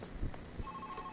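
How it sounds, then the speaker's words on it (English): Telephone ringing in the stealth video game Monaco, a steady electronic ring tone entering partway through over low background rumble, moderately faint. "the phone's ringing."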